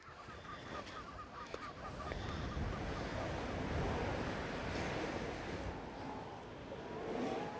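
Sea lions basking on rocks beside the ocean, with steady surf and wind dominating and a few faint honking calls rising through the wash.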